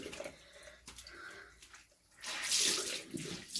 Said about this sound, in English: I just give that a rinse under the tap